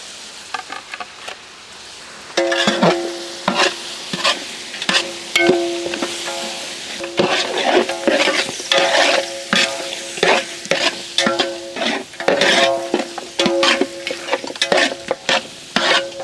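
Mutton fries in hot oil with salt, chili, turmeric, cumin powder and mutton masala for gongura biryani, loud crackling sizzle broken by repeated scraping stirs in an uneven rhythm.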